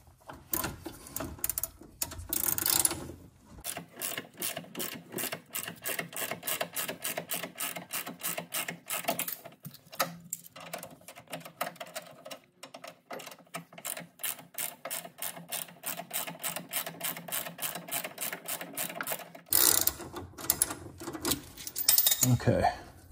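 Someone works a hand ratchet to tighten a Torx bolt on the sway bar of a Porsche Cayman GT4 981. It gives fast, even clicking runs close by, broken by a few brief pauses.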